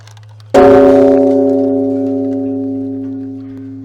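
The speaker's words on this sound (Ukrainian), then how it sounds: "Тут також можна загадати бажання та вдарити у дзвін, що ми зараз і зробимо." A single heavy strike on a Buddhist temple bell rings out loud and deep, its steady humming tone sustaining and slowly fading without any other sound.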